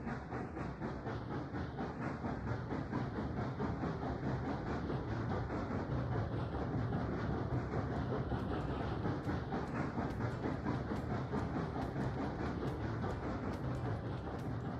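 Southern Pacific 4443, a 1941 GS-4 steam locomotive, hauling a freight train, heard as a steady, dense rumble with continuous rapid rhythmic chuffing and clatter throughout, fairly close and with no voices.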